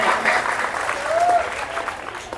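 An audience at a school prize distribution ceremony for a talent search exam claps steadily throughout, a dense, even wash of applause from a hall crowd.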